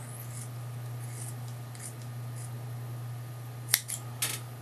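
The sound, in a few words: cutting linking bands for a wind generator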